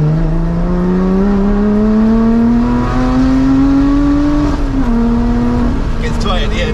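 A loud supercharged Lotus Exige engine revs steadily upward, then drops with a few low burbles at the end.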